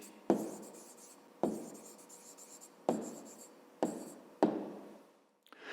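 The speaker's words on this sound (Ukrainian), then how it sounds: "Пишемо відповідь." A pen writes out the answer to a fifth-grade maths exercise on paper: five distinct strokes at uneven intervals, each a sharp tap fading into scratching, then a faint rustle at the end, with no talking.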